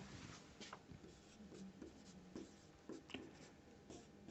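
Pen or chalk writing out a coordinate geometry exercise, a steady soft scratching of strokes and taps running throughout at close range with no talking.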